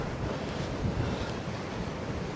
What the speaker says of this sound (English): see what the waves are like, if there are any waves